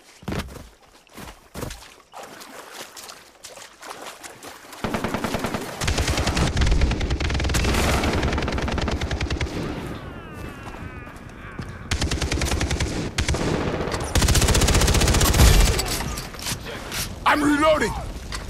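Far Cry 3 multiplayer gunfire in fast automatic bursts, loud and sustained over several seconds, with clatter and mechanical noises mixed in and voices talking over parts of the fight.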